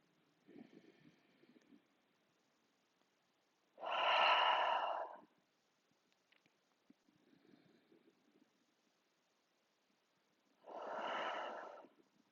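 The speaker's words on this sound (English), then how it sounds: "for 3 breaths, inhale through your nose and exhale, sigh your breath away" Slow breathing during a relaxing yoga rest pose: quiet inhales through the nose, each followed by a louder, longer sighing exhale through the mouth, two full breath cycles close to the listener.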